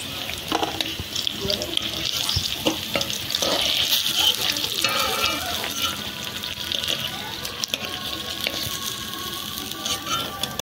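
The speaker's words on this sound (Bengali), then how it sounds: "বাকিটাও ভেজে নিচ্ছি।" Slices of pointed gourd (kakrol) frying in hot oil in a pan, a steady crackling sizzle with stirring and clinking throughout, close up and fairly loud, with no talk.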